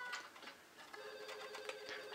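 A telephone rings in The Sims, repeated short trilling bursts at a steady pace, faint and thin against light background sound.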